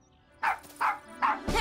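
Puppies let out three quick, high yipping barks close by, evenly spaced and clear against a quiet background, in an animated children's show.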